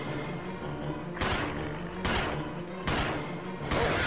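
Gunfire from the Resident Evil Zero video game comes in four sharp, evenly spaced bursts about a second apart, each loud blast standing out over a steady game background.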